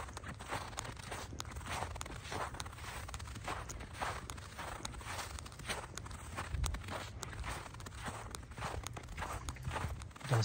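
Steady footsteps crunching through thick, packed snow on a park pathway at night, a continuous close rhythm of compressing snow with no talking.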